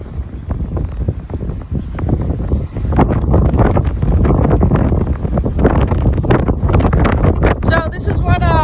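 Sustained 30 mph wind buffets a boat riding out a storm, a loud, constant roar of wind noise on the microphone with flapping and rattling gusts.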